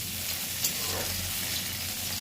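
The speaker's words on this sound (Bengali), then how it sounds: "তেলটা ভালো করে গরম হয়ে যাওয়ার পর এর মধ্যে আমি বেগুন ছোটো ছোটো করে কেটে দিয়েছি" Small pieces of brinjal, lightly salted, fry in hot oil with a constant close sizzle and a faint crackle.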